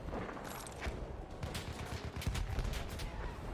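Enemy machine gun fire in the video game Battlefield 1, a dense, continuous stream of gunshots with bursts of rapid rattling layered over constant battlefield noise, loud and close throughout.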